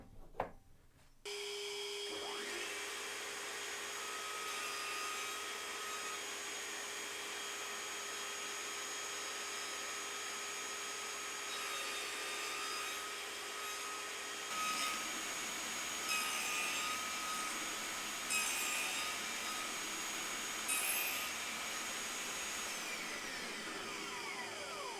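A table saw fitted with a flat-tooth grooving blade spins up and nibbles across oak to form half laps, a loud sustained whine with repeated rasping cutting passes.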